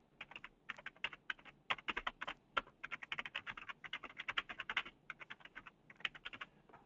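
Quick, quiet clicking of fingers typing on a computer keyboard, in bursts of rapid keystrokes with brief pauses between them.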